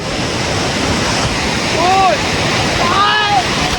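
Waterfall rushing at the Ghatarani site in Jatmai, a loud steady roar of falling water close by, with voices and calls rising briefly over the torrent.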